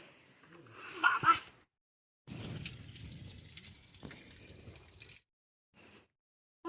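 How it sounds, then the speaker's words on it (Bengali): Hands rinsed under running water outdoors in a village, with short bursts of splashing and trickling that come and go in separate stretches between quiet pauses. "তো হাতটা ধুয়ে নি।"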